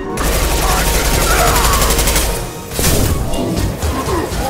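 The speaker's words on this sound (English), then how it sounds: "Concussive shot!" Explosive gunfire and a heavy concussive blast from combat in the Mass Effect 2 Legendary Edition video game, loud and continuous with a brief lull before another burst, with voices under the din.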